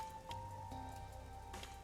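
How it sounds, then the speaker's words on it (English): Steady rain falling in the RainCode video game, a continuous patter of drops on surfaces that holds at an even level throughout, with a faint tonal hum beneath and no one speaking. "isn't it weird how it's not flooded, given how it's always raining here?"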